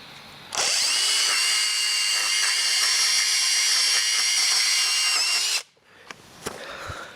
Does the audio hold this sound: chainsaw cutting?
yes